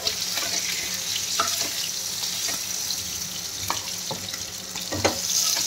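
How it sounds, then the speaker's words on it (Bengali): Chicken chaap frying in a pan produces a continuous close sizzle, broken by occasional sharp pops and spits from the oil. "এরকম করে আমি 2-3 মিনিট ভাজতে থাকবো"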